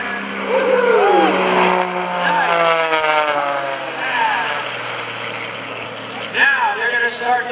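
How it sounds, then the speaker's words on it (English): Aerobatic airplanes at an airshow over Greenwood Lake roar past at full throttle, a loud engine drone with pitch shifts as they pass, and an announcer talks over it. "Throttles are up there, generating all kinds of horsepower here."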